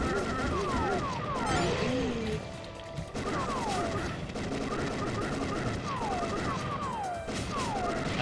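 Rapid game gunfire from Typing of the Dead II, dense bursts of shots and crashing impacts running continuously at steady loudness, with voices talking over it.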